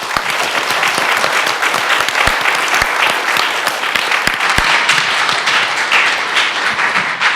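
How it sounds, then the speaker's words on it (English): A room full of people gives a loud, sustained round of applause for a panel after a discussion on service members' transitions from the military, with sharp individual claps standing out in the dense ovation. "how about if you join me in a round of applause for our panelists?"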